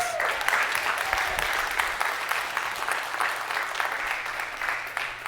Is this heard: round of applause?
yes